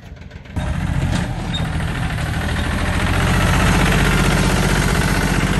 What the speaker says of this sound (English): Big man, small tractor.